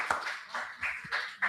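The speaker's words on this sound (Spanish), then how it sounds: "Un fuerte palma para ellos." Audience applause at an economists' conference panel honoring the moderator and panelists, a short burst of steady clapping from a modest crowd, heard alone.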